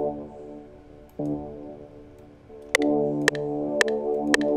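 A dark trap bass made in FL Studio for a dark R&B beat plays sustained, buzzy low notes that shift pitch a few times. Sharp clicking hits join in toward the end.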